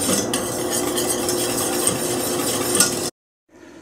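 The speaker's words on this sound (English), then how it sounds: "you make sure you go around with a whisk very well to grab everything" A whisk stirs a roux-based cheese sauce for mac and cheese in a pan, producing a continuous close rasp and swish with light metallic clinks against the sides, then stopping abruptly before a faint trailing sound.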